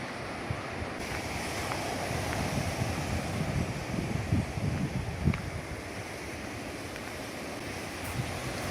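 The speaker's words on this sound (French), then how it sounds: "Et on va arriver à la plage." Waves wash steadily onto a beach at the Îles du Salut, a continuous soft surf roar with some wind buffeting the microphone and no voices.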